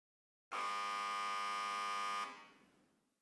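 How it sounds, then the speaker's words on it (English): A loud, harsh electronic buzzer blares steadily for nearly two seconds in a video game, then cuts off and leaves a fading reverberant tail, as if in a large, spacious room. "a buzzer sounds reverberating through the spacious room"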